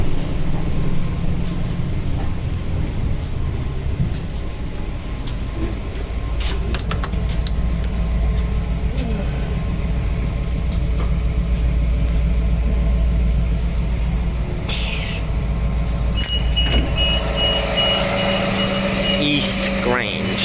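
A 3100 class diesel railcar engine rumbles low and heavy as the train pulls away in Adelaide, with squeals and mechanical clatter rising over the steady drone.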